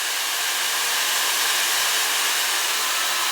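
LettreQ professional ionic hair dryer running at fan level 3, a steady loud broadband whoosh of blowing air that stays constant throughout, heard up close with no talk.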